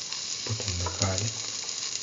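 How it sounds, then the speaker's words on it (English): Garlic sizzles in a hot pan for dinner with potato, cucumber and rice, a steady soft frying hiss with brief louder crackles, close and moderately quiet. "Put in the garlic."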